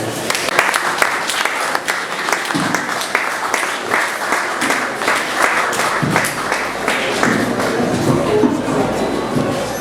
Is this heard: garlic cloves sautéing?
no